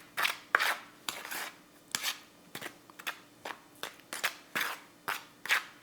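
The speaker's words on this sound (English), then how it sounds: "we are going to give this a quick stir" Seasoned flour for Nashville hot chicken, with salt and Creole seasoning, stirred in a bowl: about a dozen quick, close scraping strokes in an even rhythm, with no talk.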